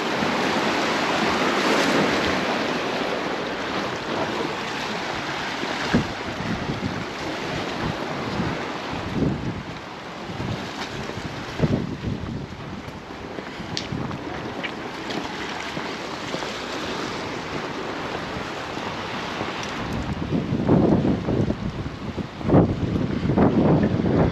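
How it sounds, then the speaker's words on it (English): Strong wind buffets the microphone on an exposed seafront promenade at Palmanova, Mallorca, with moored boats nearby and gentle surf on the beach, loud irregular gusts roaring and thumping throughout with no voices. "There's a wind. Oh, really blowing along here"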